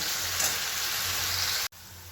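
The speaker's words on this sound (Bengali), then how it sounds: "এই যে আমার আলু ভাজা হচ্ছে" Potatoes fry in a pan with a steady, even sizzling hiss close by, briefly cut off for a moment before the sizzle resumes.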